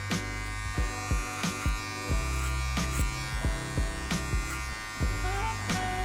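Electric hair clippers cutting hair during a soft line fade, a steady close buzz broken by short rhythmic strokes as the blade sweeps across the comb.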